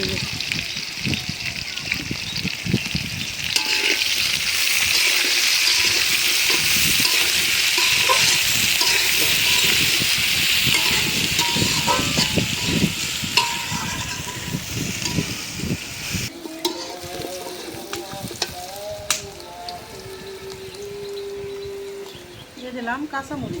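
Potatoes and onions frying in oil in a home kitchen pan, a continuous close hiss and crackle with stirring scrapes, while someone talks over it and the sizzle eases near the end.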